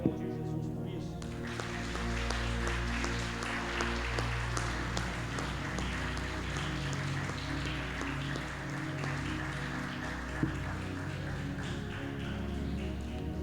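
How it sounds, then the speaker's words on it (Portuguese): A church congregation applauds during a sermon with steady, dense clapping that lasts the whole stretch, while sustained musical tones ring underneath. "Nós podemos aplaudir Jesus por isso."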